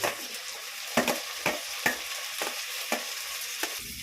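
Tomato and onion fry in hot oil with a steady sizzle, broken by about eight sharp scrapes of a spoon against the pan at a slow, regular rhythm. The sound is close and clear, with no one talking.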